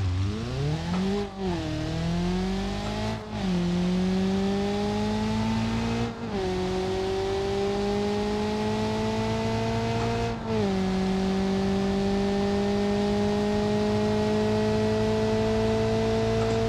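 A Subaru car engine in BeamNG.Drive revs up through the gears, each steady rising tone broken by brief dips at gear shifts, loud and close over a continuous road-noise hiss.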